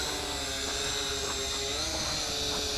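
An SJRC S70W GPS follow-me drone lifts off with its propellers whirring, a steady, loud, high-pitched buzz with a faint wavering tone that holds close and unbroken throughout.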